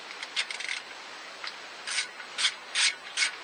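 Ratchet working on 2 mm bolts of an engine bracket on a Renault Megane 4 RS Trophy, giving close, quick clicking bursts and rasping strokes in short irregular groups.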